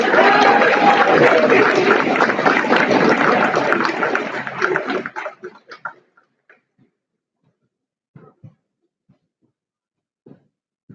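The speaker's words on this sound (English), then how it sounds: "if we could all give her a round of applause" Audience at a high school scholarship night claps steadily in a dense burst for a scholarship recipient, then the applause cuts off abruptly, leaving a few scattered late claps in a quiet room.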